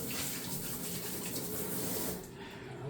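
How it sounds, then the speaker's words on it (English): Running tap water splashing over hands being rinsed in a kitchen sink, a steady close hiss and patter for a few seconds that softens slightly at the end. "Let me just rinse my hands quickly."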